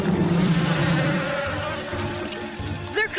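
A cartoon swarm of bees buzzes as a steady, loud drone that thins out toward the end, with a brief higher sweep near the close.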